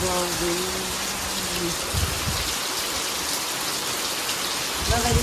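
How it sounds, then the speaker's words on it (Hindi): Heavy rain pours steadily, a dense continuous hiss close by, with a faint voice briefly audible at the start and end. "ये देखो इतनी बारिश आ गई।"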